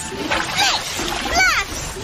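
A splash of water in a cartoon steam-engine scene, a burst of splatter and sloshing, with character voices and a sweeping musical flourish around it.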